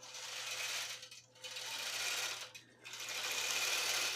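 A longarm quilting machine stitches through a quilt with a steady mechanical whir, pausing briefly twice before resuming, close and moderately loud with no talking.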